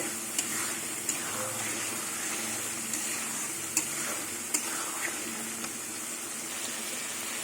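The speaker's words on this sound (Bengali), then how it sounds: "এবার আলু দিয়ে পোস্ত দিয়ে কিছুক্ষণ কষিয়ে নেব" Potatoes with poppy seed paste sautéing in a pan: a continuous low sizzle with light spatula taps and scrapes at irregular intervals.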